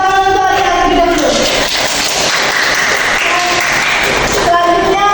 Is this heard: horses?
no